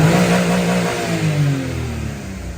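A converted car's engine hums and revs steadily on its first test drive, the pitch sliding down as it eases off, loud and close with no voices.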